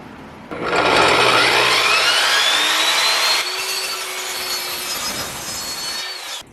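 A hand saw rasps through a wooden board in quick continuous strokes, loud and close, easing slightly toward the end of the cut with no talking.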